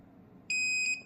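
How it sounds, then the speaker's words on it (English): Multimeter on its continuity setting beeping as the probes touch: a single steady high-pitched tone lasting about half a second, close and clear over faint background noise. "This setting, you will hear a beep when you touch the two probes together"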